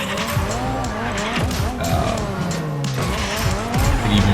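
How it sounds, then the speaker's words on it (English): Rocket-powered car drifting in the racing game Rocket Racing, with a continuous engine roar, sliding tire squeal and pitch-swooping whines that rise and fall over about four seconds. "Just trying to be able to get out of that drift."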